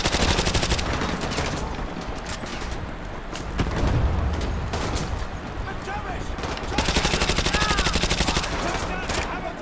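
Rapid machine-gun bursts from Call of Duty Modern Warfare 2 Campaign Remastered rattle loud and close, heavy stretches of fire at the start and again near the end, with explosions and battle noise and someone talking between bursts.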